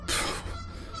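Geese honking outdoors during a bikepacking trip, a single loud, close burst of harsh honks that fades into a faint outdoor background.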